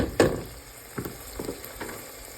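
Meat browns in a hot pan for homemade chili with a steady close sizzle, broken by a few soft stirring scrapes and taps.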